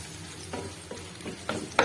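Spices sizzling in hot oil for tempering red amaranth greens, a faint crackle with a few sharp stirring scrapes and spits, close and quiet with no talk.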